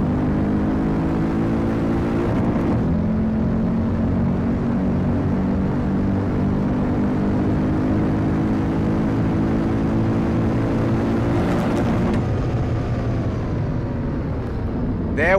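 Mercedes-Benz W204 C63 AMG engine in a driving game, a loud steady V8 drone with layered harmonics holding and shifting as it revs, gear changes near 2.5 and 12 seconds, with no talking over it.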